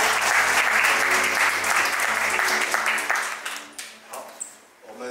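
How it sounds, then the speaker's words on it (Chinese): An audience claps steadily at a motorcycle launch media event as the company chairman is welcomed to the stage, loud and dense at first, then thinning and fading toward the end. "掌声欢迎董事长。"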